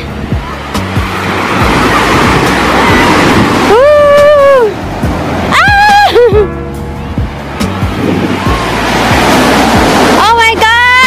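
Ocean waves wash steadily onto a beach shore in a continuous broadband roar, with a few short bursts of voices exclaiming over the surf.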